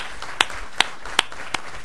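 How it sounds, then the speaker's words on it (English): A meeting audience applauds a guest speaker at an evening board meeting, a soft background patter with a few distinct, evenly spaced claps standing out. "Let's give him a round of applause as a thank you for showing up."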